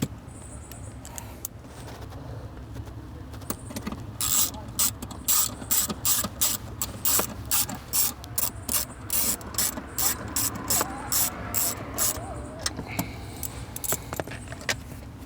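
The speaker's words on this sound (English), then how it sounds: "we'll tighten up these nuts" Ratchet wrench tightening the nuts that hold an airbag on a 2016-2018 Subaru Forester dashboard, giving bursts of quick, close clicking in a steady rhythm with brief pauses between strokes.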